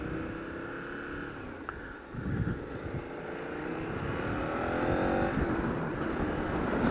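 A KTM 1290 Super Adventure motorcycle being ridden, its engine droning steadily and close with wind rush, pitch sliding as the bike accelerates through the ride, with no talking.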